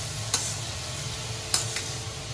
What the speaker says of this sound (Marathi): अशी परतून घ्यायची थोडा वेळ